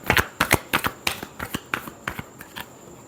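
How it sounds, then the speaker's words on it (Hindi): Tarot cards are shuffled by hand in a quick, rhythmic run of about a dozen crisp riffling bursts, close and clear with no talking. "Last shuffle."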